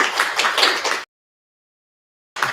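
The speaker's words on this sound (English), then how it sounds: "I just want to give a massive round of applause" Meetup audience applause, a brisk burst of many hands clapping close and fairly loud for about a second, cut off abruptly to silence, then resuming briefly.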